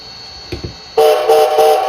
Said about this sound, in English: Cass Scenic Railway, Shay number 5 whistle.